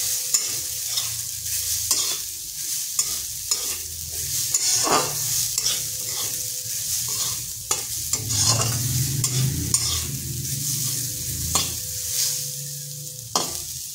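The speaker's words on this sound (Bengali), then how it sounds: "নারকেলটাকে হালকা একটু ভেজে নিচ্ছি যাতে তার কাঁচা গন্ধটা চলে যায়।" Grated coconut lightly frying and being stirred in a pan, a steady sizzle with repeated scraping strokes of the spatula and occasional sharp clicks against the pan, close and continuous, no voices.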